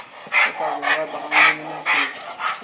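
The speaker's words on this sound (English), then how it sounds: "K-9s on campus helping officers conduct a search." Police K-9 dogs bark in a building during a search, several sharp barks in an uneven rhythm, close and fairly loud, with faint voices mixed in.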